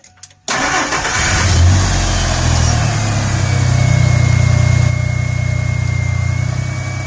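A 2000 Ford F150 engine, freshly filled with new oil, cranks briefly and catches, then settles into a steady, loud idle that runs on without pause, heard close with no talking.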